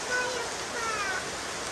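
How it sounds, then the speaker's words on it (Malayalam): Heavy rain pours down outside a house's sit-out, a dense, steady wash of hiss filling the background with faint talk beneath it. "മഴ കാരണം പറയുന്നത് കേൾക്കണ്ടോന്ന് അറിയില്ല"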